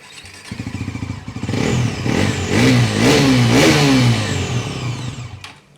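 A Bajaj Pulsar NS400Z motorcycle engine starts and idles with a deep exhaust rumble, then revs up several times in rising, wavering surges before cutting off abruptly.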